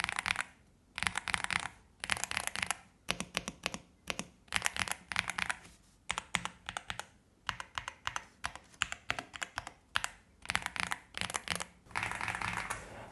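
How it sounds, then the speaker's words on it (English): Close typing on a Yunzii AL68 compact mechanical keyboard, bursts of crisp clicky keystrokes separated by brief pauses, steady and rhythmic. "I'm not sure what's the correct adjective to describe the typing sound, but it sounds nice to me"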